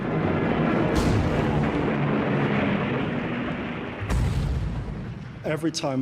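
Heavy Nazi-era fortress artillery in Berlin booms out twice from a tower, loud blasts with rolling rumble between them, followed by a voice speaking at the end.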